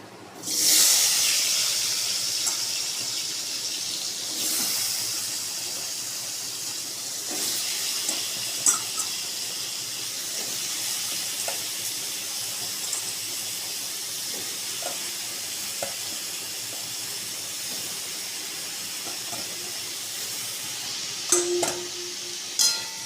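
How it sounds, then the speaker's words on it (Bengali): Potatoes frying in a pan over a low gas flame, a continuous soft hiss and sizzle with faint crackles and a few louder spattering bursts near the start and end. "গরম হয়ে গেলে গ্যাসের ফ্লেমটা একটু লো করে দিয়ে আস্তে আস্তে আলুগুলো ছাড়বো"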